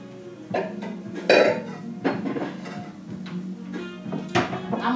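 Dishes and a bowl clatter in a home kitchen, with several close clinks and knocks of crockery and cutlery at irregular intervals, moderately loud and without talk.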